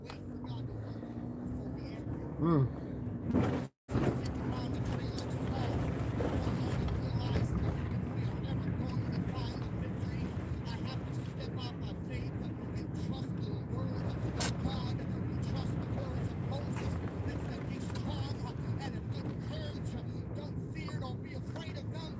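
Car driving down a road toward a dead end, a steady low road and engine rumble from inside the cabin throughout, with a person talking over it.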